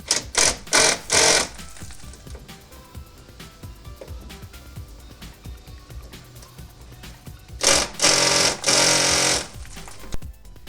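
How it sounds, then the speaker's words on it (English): Air wrench hammering at rusted bumper bolts on a Toyota 4Runner, loud rattling bursts in two clusters, several short blasts at the start and a longer run later, with quieter workshop noise between. "the electric impact driver couldn't do a job, so I busted out the air wrench"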